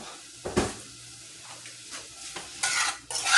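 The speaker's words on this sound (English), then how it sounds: "as I stir, I'm kind of smushing the strawberries too" Strawberries and sugar are stirred and mashed in a bowl, giving wet, squelching scrapes and a few clinks of the utensil against the bowl, close and fairly loud.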